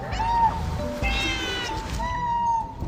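Cat meowing in a residential neighborhood, two or three drawn-out tonal meows close by, heard alone over low background noise.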